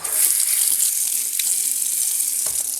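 A bathroom tap runs steadily into a sink, a close, continuous hiss of flowing water with a faint splash near the end as someone dampens their face.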